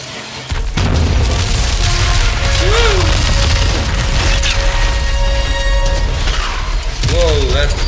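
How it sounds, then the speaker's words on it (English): A missile explosion and fire in Dead Space 3: a sudden heavy boom about half a second in, followed by a sustained roaring, crackling rumble with mechanical clatter and game music tones layered on top. "that's missile and fire"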